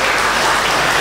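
A seminar hall audience gives a brief burst of loud, dense clapping for participants from Riau, steady and close throughout, with no speech heard.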